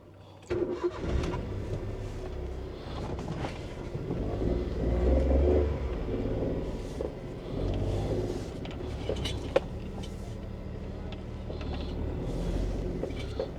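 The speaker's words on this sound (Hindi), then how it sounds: "गाड़ी स्टार्ट करते हैं।" A car engine cranks and catches, then revs and settles into a rumbling idle before pulling away, the engine sound running steadily throughout with a few clunks.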